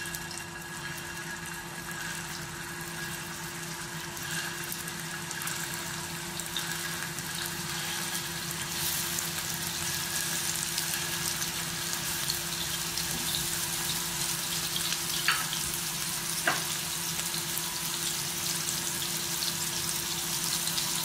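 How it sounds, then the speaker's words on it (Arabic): Kofta meatballs frying in a hot pan, a steady close sizzle and crackle lasting throughout with a faint background hum and a couple of small clinks, no talking. "عشان خاطر انا دلوقتي هنزل الكفته بتاعتي، فمش عايزه الكفته بتاعتي تنزل ميه، احطها سخنه"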